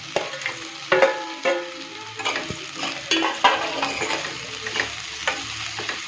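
Dried fish curry with fried brinjal is stirred in a sizzling pan, giving repeated scraping strokes of a spoon in a steady rhythm over a constant frying hiss.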